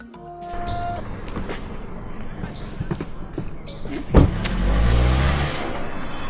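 A car in a dramatic film scene, with engine and motion noise under continuous talk, a sharp thump like a door shutting partway through, then a louder low rumble as the vehicle pulls away.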